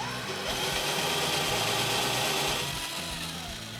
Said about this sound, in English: Let's just drill through the eraser now.